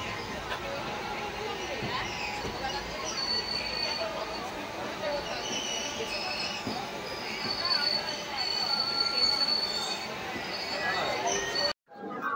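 Inside a moving Maa Tara Express passenger train bound for Tarapith, a constant rumble and rattle of wheels fills the carriage, with a faint high squeal. Voices and background chatter run underneath until the sound cuts out briefly near the end.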